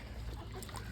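A wild chicken in Yorkshire clucks briefly, close by, over a steady outdoor background hiss.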